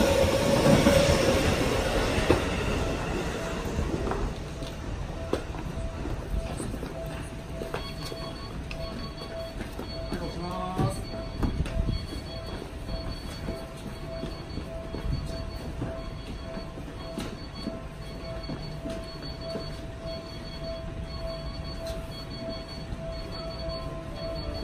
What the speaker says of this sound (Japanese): 緊急電車発車いたします。